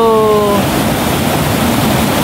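Rising brown floodwater rushes past a rainy-season camp, a loud, steady broadband roar of flowing water, briefly overlaid at the start by a faint tonal hum.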